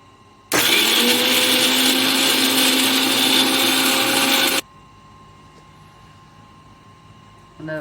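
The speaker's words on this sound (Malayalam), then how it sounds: "ഇനി ആവശ്യത്തിന് ഉപ്പൂടെ ചേർത്ത് നമുക്കിതൊന്ന് അരച്ചിട്ട് വരാം" A mixer grinder blends coconut chutney ingredients with curry leaves and salt, giving a loud, steady whirring grind that starts abruptly, runs for about four seconds and then cuts off, leaving a quiet room.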